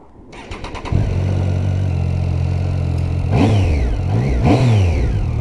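A Triumph Street Triple 675 Rx motorcycle engine with standard exhaust fires up and idles steadily, then gets blipped twice in quick rising-and-falling revs, loud and close with no talking.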